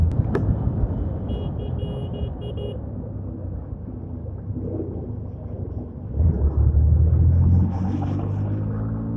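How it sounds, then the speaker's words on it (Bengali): A motorbike slows on a road under engine braking, giving a low, steady rumble of engine and wind that swells near the end as the engine note drops and labours, with no voices over it. "দেখছেন ইঞ্জিন ব্রেকের উপকারিতা"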